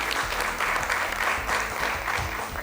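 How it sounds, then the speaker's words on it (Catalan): Loud, dense applause from an audience cheering a school team, continuous clapping with crowd murmur filling the whole moment. "Un fort aplaudiment per elles."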